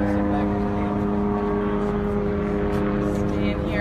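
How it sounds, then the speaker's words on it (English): Helicopters passing overhead along a front road in Nevada, a loud continuous rotor and engine drone with a steady low hum that stays level throughout. "we always have our, I'm sure, very cheap and expensive helicopters flying overhead"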